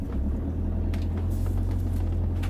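A car drives off along a road, its engine a steady low rumble filling the cabin from start to end, close and loud, with faint road noise on top.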